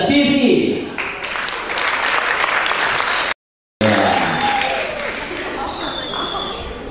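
An audience applauds players on stage with dense, sustained clapping, loud and continuous, broken by a brief dropout midway. A voice is faintly audible under the applause.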